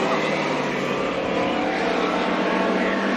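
Hobby stock race cars roaring around Bakersfield Speedway during a heat race, a loud, dense, continuous engine drone from the field with no break.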